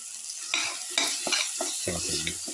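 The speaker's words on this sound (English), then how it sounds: "Thoroughly saute it." Spices with a spoon of chili powder sautéed in a pan for a garlic potato and split chickpea casserole, giving a close, steady sizzle with short scraping stir strokes.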